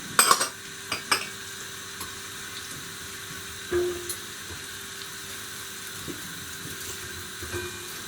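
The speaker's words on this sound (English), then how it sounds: "You can see the butter is melting, and I'm going to put the cumin seeds now" Cumin seeds fry in melting butter in a pot for broccoli and carrot soup, a soft crackling sizzle under a few sharp clatters of a utensil against the pan at the start and later.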